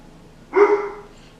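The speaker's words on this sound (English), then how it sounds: "My dog's barking." A dog gives a single sharp bark at a passing helicopter, close and loud, with a brief strained tail, standing alone against a quiet indoor background.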